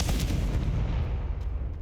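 Confringo spell blast in Hogwarts Legacy, a heavy booming explosion with a deep rumbling decay, loud and close, alone without talk.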